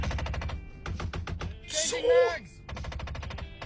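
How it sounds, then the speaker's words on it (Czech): Failing car window actuators clicking in rapid, gunfire-like bursts, loud and close inside the car, stopping briefly while a voice speaks before the rattling resumes. "My window actuators are going out, so it sounds like I'm having a hell of a firefight in here."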